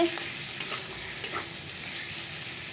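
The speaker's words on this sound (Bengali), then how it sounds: "আলু আলু আর পেঁয়াজ দিয়ে মাছের ঝোল হচ্ছে" Fish curry with potatoes and onion bubbles in a pan, giving a soft, even hiss with a couple of faint taps, close and steady throughout, without any voices.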